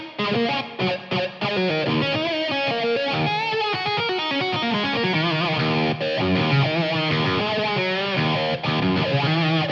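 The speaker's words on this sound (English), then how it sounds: "when you put a wah pedal with it" A harpejji, a tapped string instrument, plays a lead line through a wah pedal with heavy distortion, loud and sustained, with sweeping tonal shifts and a few short choppy stabs at the start.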